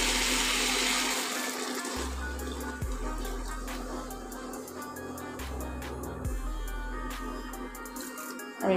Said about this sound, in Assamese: এতিয়া ইয়াতে দি দিম পানী